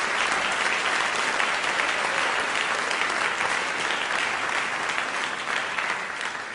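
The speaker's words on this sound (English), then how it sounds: "I just want to actually invite one more round of applause to Bob Rosenkranz for making this all possible." A large audience delivers loud, continuous applause at a live event honouring its sponsor, Bob Rosenkranz, a dense, unbroken roar of clapping that stays full and even from start to finish with only a slight easing at the very end.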